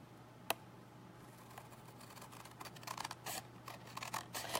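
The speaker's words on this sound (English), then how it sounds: "I'm just going to take my scissors and open this up and just cut that off." Quiet, close snips and crisp cutting clicks, a sharp tick near the start and a cluster of faster cuts toward the end.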